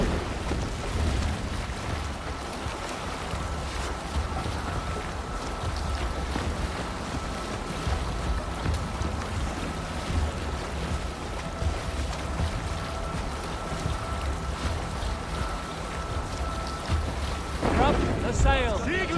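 A Viking longship under sail in Assassin's Creed Valhalla, with steady wind and rushing water against the hull, a continuous low roar close by and brief voices over it.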